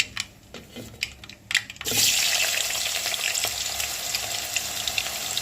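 Finely chopped potatoes, three medium ones, dropped into hot oil in a pan for Mumbai-style kanda poha, a few clinks and taps giving way to a loud, steady sizzle that continues close up.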